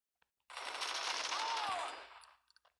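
A single sustained burst of MG4 machine gun fire in the shooter game Bullet Force, rapid and continuous for about a second and a half before cutting off, followed by a few faint clicks.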